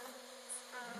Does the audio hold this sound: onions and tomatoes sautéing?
no